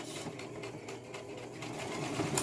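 A sewing machine runs steadily while back stitching through a wig frontal held under the presser foot, a continuous close mechanical whir with no pauses and no talk.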